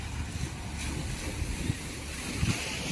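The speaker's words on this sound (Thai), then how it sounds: "ท้องทะเล สบาย ลมพัดเย็นสบายสบาย" Sea and a cool coastal wind at the Prince of Chumphon monument in Mueang district, Songkhla, Thailand: a steady broadband wash of wind and surf, fairly close, with low gusty rumbles and no voices.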